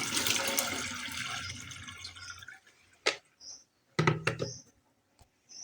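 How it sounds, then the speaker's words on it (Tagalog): Spoiled plain boiled moringa liquid poured out into a sink: a steady splashing rush of water for a couple of seconds, then a few separate drips and splashes with short pauses between. "itatapon ko na lang kasi sayang, napanis na siya"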